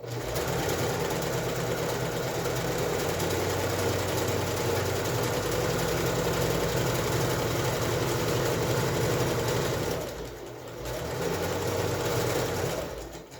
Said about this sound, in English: backstitch back and forward, go a couple times, because that'll really secure your tie